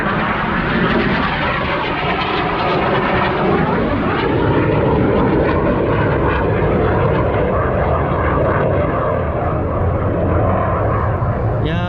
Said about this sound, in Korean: 전투기가 날아다닙니다